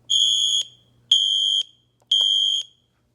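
Siemens and Edwards fire alarm sounders sound together in three loud, evenly spaced high-pitched beeps, each about half a second long, with silence between them.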